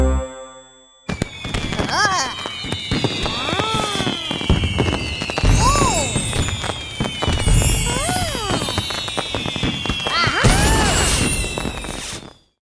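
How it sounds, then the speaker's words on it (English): Fireworks crackle and burst repeatedly over a long stretch, with sharp bangs and sizzling whistles, while voices call out and shout underneath. "They watched the fireworks explode high up above them."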